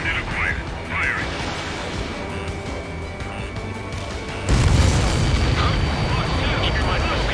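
Weapons firing from a fighter jet in the Ace Combat 7 flight game, heavy booming blasts over a constant roar of engines, with a stronger surge of explosion noise in the second half and radio-style voices talking.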